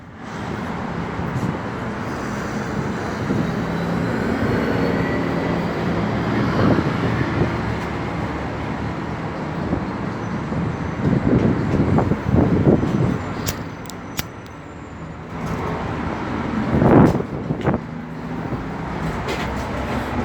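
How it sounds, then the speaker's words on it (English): Steady city street traffic with trucks and garbage trucks rolling past, a continuous low roadway rumble with heavier passing engines swelling and fading, plus occasional bumps and wind. "Trucks, and more trucks."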